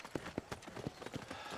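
Horse hooves clip-clopping in the Red Dead Redemption video game, a steady rhythmic series of moderately loud hoofbeats on hard ground, with a faint ambient backdrop.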